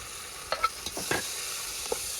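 Half a kilo of thinly sliced tomatoes go into a pan of frying onions and get stirred, a soft, quiet sizzle broken by a few short scraping stir strokes, with no talking.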